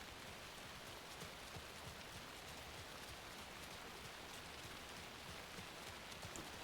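Steady rain pours down in a dense, even hiss in the video game Alan Wake II, faint and unbroken, with no voices.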